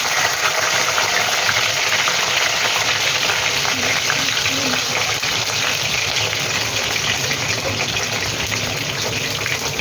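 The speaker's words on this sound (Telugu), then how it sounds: "ఆయిల్ హీట్ ఎక్కాక వంకాయ ముక్కలు వేసుకొని ఫ్రై చేసి ఇప్పుడు వంకాయ ముక్కలు ఇందులో వేస్తాం." Eggplant pieces fry in hot oil for a village-style eggplant gravy curry, giving a loud, steady, continuous sizzle with fine crackle that holds at close range throughout, no talking.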